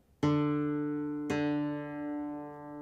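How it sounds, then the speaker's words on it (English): Two plucked open guitar notes, the fifth and fourth strings played for tuning by ear, ring out one after the other, each struck cleanly and left to sustain and slowly fade. "now play your open 4th string"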